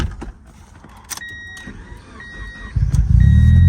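A car engine catching and settling into a steady idle after a Compustar remote start on a manual-transmission car, preceded by alarm beeps and clicks, the low rumble growing loud and close at the end.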